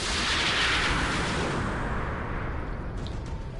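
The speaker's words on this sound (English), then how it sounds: "This is the sonic cannon." A sonic cannon fires in the Marvel's Avengers video game, War for Wakanda chapter, as one loud, sustained roaring blast that booms and slowly tails off, with no speech over it.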